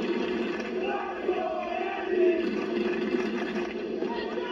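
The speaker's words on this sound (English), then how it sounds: "It's a crowd saying, let's go, Andy." Tennis crowd at a college men's national semifinal, Florida against Texas, a steady mass of voices rising and falling in a chant for a player named Andy, continuous and fairly loud throughout.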